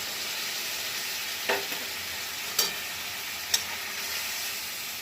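Steady frying sizzle of bitter gourd and potato chachchari in a pan, with a few brief stirring scrapes and clinks as a little water goes in; fairly quiet and close, with no talking.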